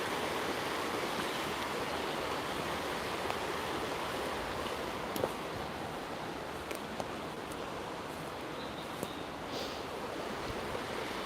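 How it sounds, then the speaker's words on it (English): A river in Blackburn flows on a morning walk, a steady, continuous rushing of water heard nearby and alone, with a few faint clicks and ticks over it. "Sound at river at morning."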